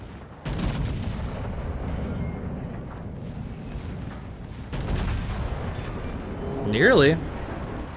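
Heavy naval gunfire from the battleship V. Veneto in a World of Warships-style game: dense rumbling booms and blasts throughout, swelling louder near the end, with a voice talking briefly over the battle.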